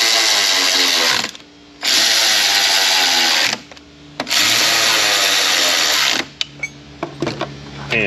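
A power tool drives bolts on a bracket of a Mazda RX-8 in a close, loud whirring burst, stopping and restarting in three runs separated by short pauses, then a few light clicks.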